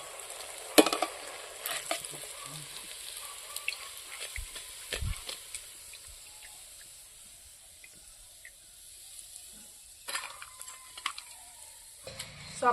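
Crispy coriander leaf chops made with peanut paste fry in a pan, giving a low, steady sizzle broken by intermittent stirring clicks and scrapes of a utensil, with no voices.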